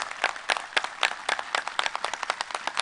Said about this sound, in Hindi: तो जब ताली बजाए रहे हो तो जोर से बजा लो